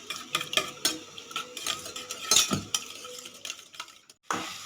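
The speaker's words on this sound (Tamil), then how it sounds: "இப்போ இந்த கலவையை நல்லா நுர வர அளவுக்கு நல்லா அடித்து எடுத்துக்கலாங்க." Egg mixture seasoned with chili and turmeric powder is whisked briskly in a bowl for a roadside-style bread omelette, giving rapid clinking and scraping strokes, close and uneven, with a brief pause near the end and no speech.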